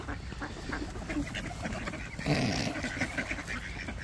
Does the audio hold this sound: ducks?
yes